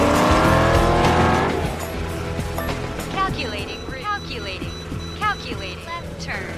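Race cars in a film roar past in a dense, loud engine wash, followed by sweeping engine pitches and short whines over continuous rumble, with speech mixed in.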